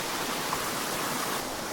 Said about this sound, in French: Il y a d'autres cascades.